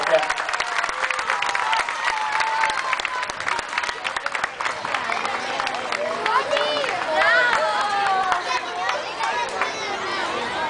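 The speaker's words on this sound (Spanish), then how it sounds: "Un fuerte aplauso para Sebastián." Applause and crowd noise at a youth swimming competition in a pool hall, steady clapping throughout with a lively mix of voices and an announcer's voice over the crowd.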